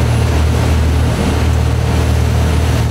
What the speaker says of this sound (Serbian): motori su radili punom snagom. Brod seče karipske talase